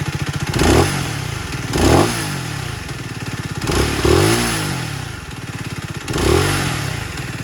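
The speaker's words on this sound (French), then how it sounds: "Je vais vous faire écouter un peu le son du moteur." A 125cc single-cylinder FB Mondial HPS 125 motorcycle engine chugs steadily at idle, with several brief revs rising and falling every second or two, close up.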